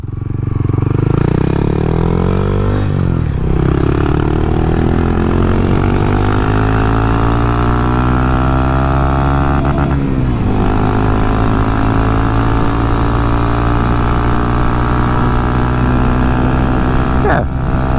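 A 2022 Honda Monkey motorcycle fitted with a Termignoni exhaust runs continuously on the road, a loud, steady engine drone with the pitch dipping at gear changes around three and ten seconds, buffeted by wind.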